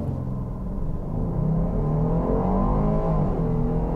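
A 2022 Jeep Grand Cherokee Trailhawk with an 8-speed automatic launches from a brake-torqued standstill, its engine revving and climbing steadily in pitch through a continuous loud rumble heard from inside the cabin, with no talk.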